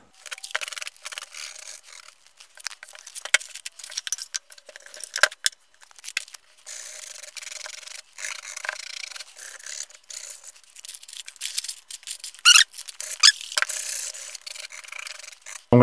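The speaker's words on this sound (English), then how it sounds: "but the sandpaper will take care of that." Sandpaper rubbing across the top of a Gibson SG Standard guitar body: close, fairly quiet rasping strokes in irregular bursts with brief pauses, no voices.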